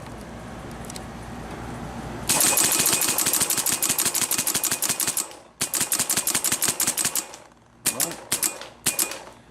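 A Nummech N-Autococker paintball marker on a slider frame fires rapid, snappy shots up close, loud strings of sharp pops in several bursts separated by short pauses, after a quiet start.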